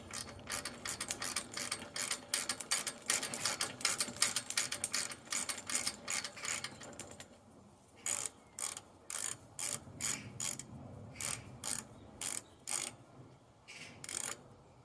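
A hand ratchet undoes the bolts on a greasy bracket of a garden swing, giving a long run of quick, faint clicking strokes, then a short pause and a series of shorter separate bursts of ratcheting.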